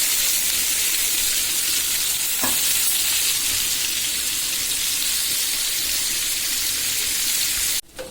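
Onions sizzle and fry in hot oil in a pan alongside hilsa fish, a steady dense crackle throughout with a brief stir near the middle, ending abruptly.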